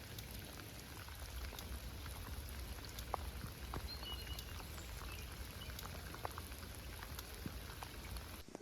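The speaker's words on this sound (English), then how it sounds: "The other thing that has caused chaos this week, and is going to cause even more chaos next week, is the rain." Steady rain falling on an outdoor smallholding, a continuous dense patter with scattered individual drops standing out, no voices.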